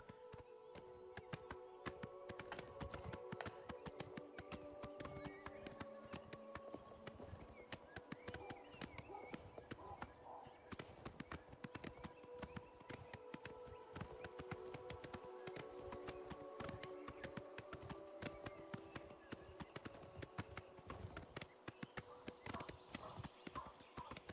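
Horse hooves clip-clop steadily through the open world of the video game Oblivion, a continuous rhythmic trot over game music and ambience, with a voice talking over it.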